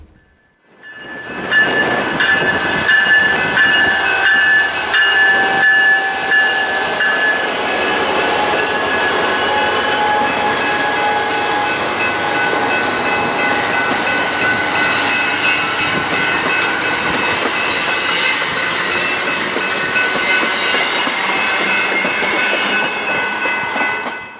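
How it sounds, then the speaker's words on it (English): A northbound BNSF freight train powered by three GP60M locomotives passes on the Bellingham Subdivision in the Puget Sound area, a loud, steady roar of rumbling cars and rail noise that builds quickly and holds for the whole stretch with no talk. "the BNSF would get its signal indication to proceed northbound with 3 GP60Ms serving as power"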